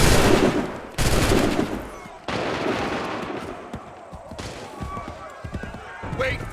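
A musket volley in Assassin's Creed III sounds as a massive close blast of many shots at once, followed by further heavy rolling volleys and crackling echoes, with battle noise between them.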